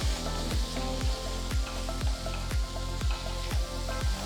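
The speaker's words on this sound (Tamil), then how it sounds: "ஸோ தக்காளி ஓரளவுக்கு நல்லா வதங்கணும்." Chopped tomatoes sautéing in a pan for a Kerala-style chickpea curry, a steady close sizzle with regular stirring knocks about every half second, no talking.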